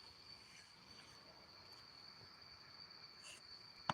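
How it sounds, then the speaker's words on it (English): Faint, continuous cricket chirping in a quiet outdoor night setting, with a soft click near the end. "you hear crickets right behind me"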